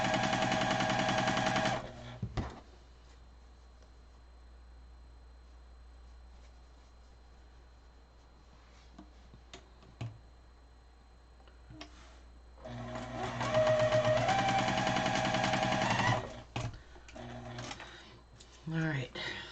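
A sewing machine stitches quilt block pieces for fabric coasters in two loud, fast-chattering runs separated by a long quiet pause with soft handling noises and quiet talk.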